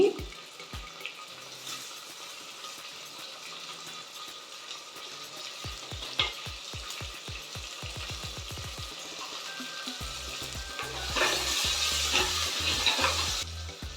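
Chopped tomato, added while cooking fish, frying in a pan: a steady sizzle with a run of quick rhythmic taps from stirring, then the hiss swelling louder toward the end.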